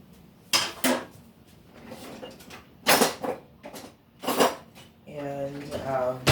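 Dishware clatter as food is set into a baking dish, a few sharp clinks and knocks near and fairly loud, with someone speaking between them.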